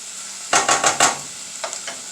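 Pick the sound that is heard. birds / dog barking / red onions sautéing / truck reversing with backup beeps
red onions sautéing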